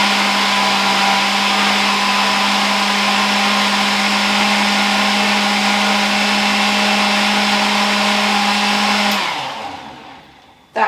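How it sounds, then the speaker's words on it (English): A kitchen blender running steadily at high speed, a loud constant whir with a strong motor hum that holds for about nine seconds, then cuts off and winds down, followed by a brief clunk. "So I slowly just pulse it first, just to blend it up."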